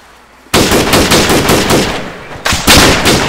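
Automatic rifle fire in the Arma 3 military video game, heard as two close, loud sustained bursts of rapid shots with a brief break between them and no talk over them.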